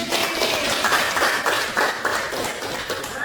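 A classroom of students claps together during an Islamic religious education lesson, a steady dense patter of many hands at close range lasting throughout.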